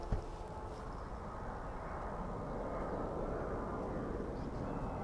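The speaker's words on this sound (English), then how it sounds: "As the flight from Springfield passes overhead." An airplane passes overhead at DFW Airport, a broad, low engine roar that holds steady and swells slightly over the few seconds, with faint wind noise and no talk.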